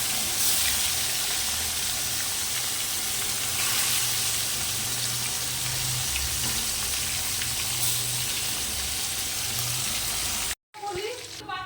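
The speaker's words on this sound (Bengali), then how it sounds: "এবার আমি শোল মাছগুলোকে ভেজে নেব" Snakehead (shol) fish frying in hot oil in a wok, a steady close sizzle and hiss that runs without a break until it cuts off abruptly near the end.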